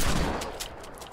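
Gunfire from a Hand Cannon in a first-person shooter video game, a short burst of shots opening loud and fading quickly.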